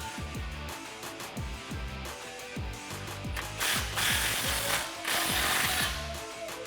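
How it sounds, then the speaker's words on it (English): Ratchet tightening an exhaust clamp on a RAM 1500 5.7L with a Flowmaster FlowFX dual exhaust, a rhythmic run of quick metallic clicks in steady strokes over a hissy background, fairly faint and close, with no talking. "All right, tighten down your clamp."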